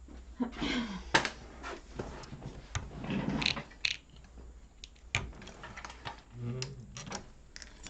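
A sewing machine stitches across a wallet's lining and exterior main panel in short, uneven bursts of ticking mechanical clatter with pauses between runs, close and moderately loud.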